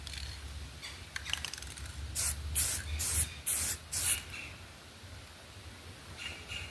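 Gold paint sprayed from an aerosol can onto an Enkei wheel from a 2003 Mitsubishi Galant during refurbishment: a few short, sharp hissing bursts in close succession, then a fainter final spray near the end.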